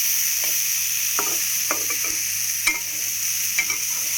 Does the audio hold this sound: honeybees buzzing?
no